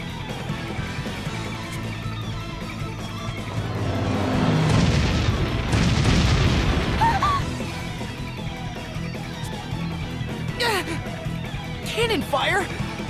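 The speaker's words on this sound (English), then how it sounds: "Cannon fire? This is madness!" Cannon fire in Bravely Default: Flying Fairy HD Remaster on Nintendo Switch 2 swells into a rumbling booming barrage in the middle, with game music and voiced dialogue around it.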